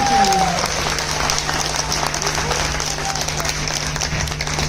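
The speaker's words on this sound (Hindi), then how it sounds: "हमारी तालियों में भरत जी को भी पता चलनी चाहिए, जरा जोर आएगा" Dense, continuous applause from a crowd at a birthday celebration for an officer, steady and loud for the whole stretch with a low hum underneath.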